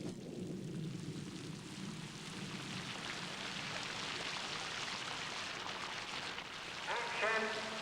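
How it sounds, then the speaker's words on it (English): Artificial rain on a 1970s film set, a steady broadband hiss of falling water and spatter that holds evenly throughout and swells slightly near the end. "Can we have the rain, please?"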